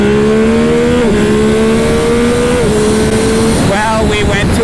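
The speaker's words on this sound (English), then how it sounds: "All right, let's do the old 0 to 60 here. My first launch on an R9." A 2025 Yamaha YZF-R9 motorcycle launches hard from a standstill, its loud close engine note climbing steadily through several gear shifts, each marked by a brief dip before the pitch rises again.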